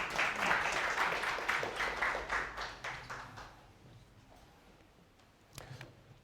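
A seminar audience claps in a loud burst that gradually thins and fades over several seconds, followed by a few scattered taps near the end.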